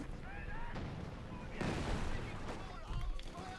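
Heavy gunfire and artillery rattle through a Company of Heroes 2 battle, with bursts of shots and booms under a commentator's steady talk.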